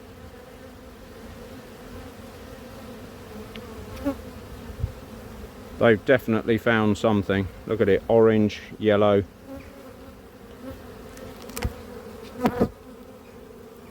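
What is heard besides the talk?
honeybees buzzing at the hive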